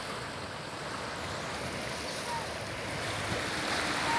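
Sea waves wash steadily beside the old lighthouse at El Max on the Alexandria coast, a continuous broadband surf roar with wind buffeting the microphone, growing slightly louder toward the end, with no voices.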